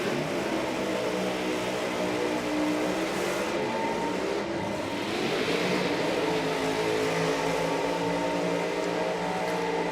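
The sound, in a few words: drag racing car engine doing burnouts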